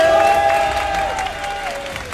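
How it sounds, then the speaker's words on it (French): A crowd applauds a man named Kevin at a French event. Dense clapping fades slightly over two seconds, and a sustained, wavering tonal sound runs through it. "C'est Kevin et on peut l'applaudir bien fort."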